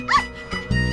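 A dog nearby gives a short, sharp bark followed by a softer yip, with a steady low hum underneath throughout.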